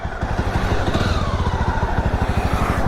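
A Jawa motorcycle fitted with new silencers runs nearby, its engine thumping out a steady, even, deep beat without pause.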